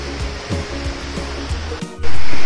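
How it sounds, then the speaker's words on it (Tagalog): A waterfall below a mountain hiking trail in Japan gives a steady broadband rush heard from above, swelling suddenly louder at the very end. "Falls po yan."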